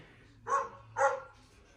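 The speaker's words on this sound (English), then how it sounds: "my dog's barking out there" A dog barks outside, two distinct woofs about half a second apart, moderately loud but a little distant, with nothing else prominent around them.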